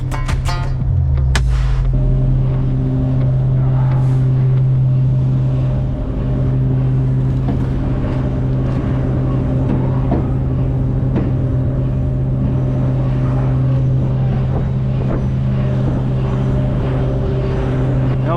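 A truck hauling a trailer idles and creeps while maneuvering into position, its engine a steady low drone with a constant hum, a brief rising rev near the start, loud and close.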